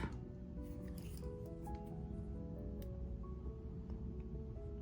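Small wire snips cutting a stray bit of metal off a crimp tube while making a beaded bracelet, close and quiet scraping and clicking with brief sharp snips.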